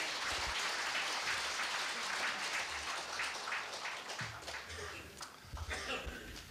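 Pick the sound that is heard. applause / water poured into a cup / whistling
applause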